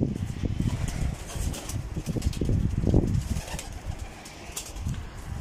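Pigeons in a loft near a mosque dome and minaret, with low cooing and soft wing flutters that rise and fall steadily over light wind, continuous and moderately close.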